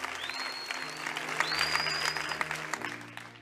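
An audience at a French-language church gathering claps and cheers steadily for a few seconds, dense applause with voices under it and a sustained tone running behind.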